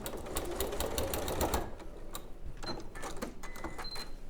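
Domestic sewing machine stitching through quilt layers with a rapid, even mechanical rattle of the needle, near and moderately quiet, slowing into shorter bursts and pauses toward the end.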